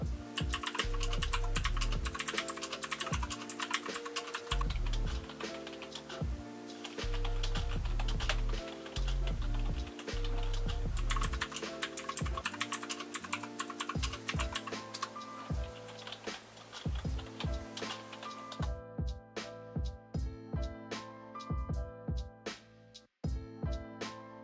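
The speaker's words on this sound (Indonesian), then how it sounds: "mechanical keyboard ini menggunakan Otomoog Blue Switches." Typing on a 1STPLAYER MK3 Firerose mechanical keyboard with blue switches, a close, continuous flurry of crisp clicky keystrokes that thins into slower, separate clicks toward the end.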